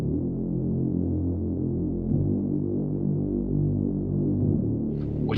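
A mid-layer synth patch built in Serum, part of a track arrangement alongside a saturated sub bass, plays as a steady, throbbing, humming tone with layered low harmonics, sustained throughout with a brief brighter flicker near the end.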